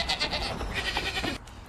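About a dozen goats bleat at sunrise on a farm in Germantown, Philadelphia, producing a short, dense burst of overlapping calls close by.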